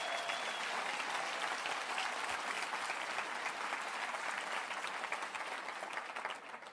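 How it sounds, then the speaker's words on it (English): A large audience at a startup ecosystem talk applauds steadily, dense and even throughout before easing slightly at the end. "Give a big round of applause, please."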